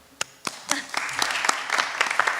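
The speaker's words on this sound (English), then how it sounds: "Of course we're going to applaud." Audience applause at a public consultation on a college campus renewal, starting with a few scattered claps that build into steady clapping from a modest crowd indoors.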